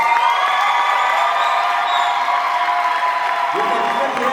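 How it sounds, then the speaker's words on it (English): Audience at a school honours ceremony applauding steadily together, a dense continuous wash of clapping filling the whole stretch, with a few voices emerging near the end. "You can clap your hands better than that"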